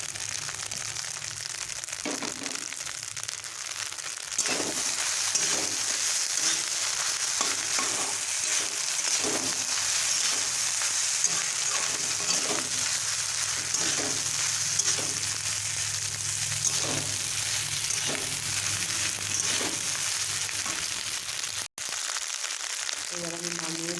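Leftover rice frying with beaten egg in a pan gives a continuous close sizzle, with regular scraping strokes from stirring throughout and a brief gap near the end.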